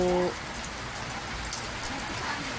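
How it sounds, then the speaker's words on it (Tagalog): Typhoon Uwan drives steady rain and gusting wind in a continuous broadband hiss and rush with a few brief peaks. A short tonal sound is heard right at the start. "Mahina lang yung ulan. Malakas lang yung hangin."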